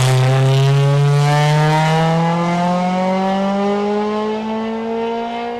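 A historic race car at a hillclimb sprint holds its engine hard against the rev limiter in one loud, close, sustained howl, the pitch climbing gradually as it stays pinned.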